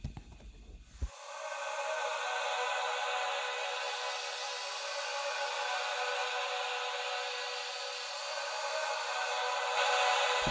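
A melody processed through a convolution reverb with the Blur White preset, heard as a continuous washed-out hissy wash of sustained tone with the lows cut away, lasting about ten seconds with no talk.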